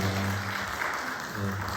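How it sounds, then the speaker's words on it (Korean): A church congregation gives a brief burst of applause during a Sunday service to welcome visitors, a short patch of clapping set between a speaking voice before and after. "환영한다고 박수로 환영합니다"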